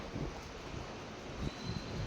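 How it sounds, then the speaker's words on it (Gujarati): A strong, cold wind blows across the microphone outdoors. It makes a continuous broadband rumbling roar with gusty swells, and no voices are heard. "પવન જોરદાર આવે છે અહીંયા ઠંડો ઠંડો"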